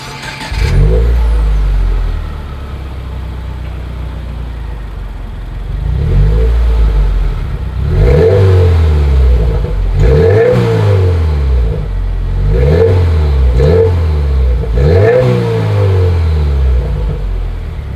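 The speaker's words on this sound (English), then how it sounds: "here is that exhaust clip." A 2020 Subaru WRX with a quad stainless steel tip exhaust revs up repeatedly from idle, about half a dozen loud, close bursts that rise and fall in a steady rhythm with no talk over them.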